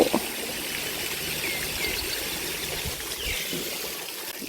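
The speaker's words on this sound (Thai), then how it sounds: "อ๋อตรงนั้นก็มีน้ำพุ" Water from a fountain at a Thai temple runs in a steady, continuous trickle and splash, moderately close and unbroken throughout, with faint bird calls in the background.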